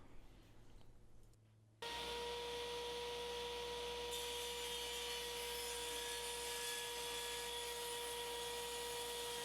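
A power saw starts abruptly and runs on with a loud, steady whine while cutting the ends off a wooden glue-up of mixed strips, preceded by a brief quieter rubbing sound.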